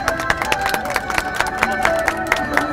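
A street crowd claps for a robot, a brisk run of sharp handclaps close by over murmuring voices and background hubbub.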